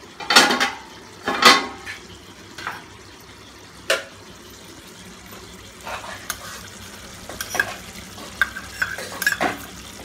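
A spoon stirs palak paneer with butter in a pan: several sharp metallic clinks and scrapes, loudest at the start, then lighter taps over a faint, low cooking hiss.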